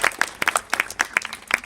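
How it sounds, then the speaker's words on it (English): Scattered applause from an audience at a school speech day, a short burst of separate, uneven claps heard up close without talk. "Let's give her a clap, please."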